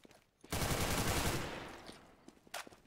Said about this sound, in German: Ah, die Waffe klingt anders.